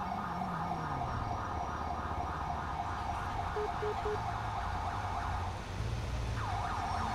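A wailing ambulance siren in Grand Theft Auto V cycles continuously at moderate distance, steady and unbroken, with a faint engine hum beneath.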